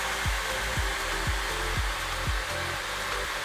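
Computer fans in a cheap secondhand desktop PC whirring with a steady broadband hiss, while a low rhythmic thump repeats about every half second over it; no one speaks.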